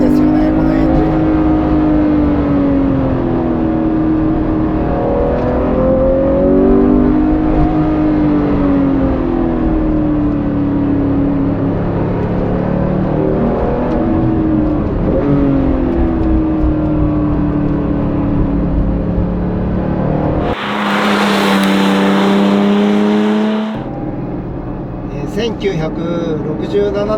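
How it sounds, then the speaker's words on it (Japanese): A Porsche 911 R's engine revs hard and steadily while driving, loud and sustained with rising and falling pitch sweeps as it works through the rev range, with a brief sharper burst near the end. "レスポンスがいいんですよね、このエンジン。"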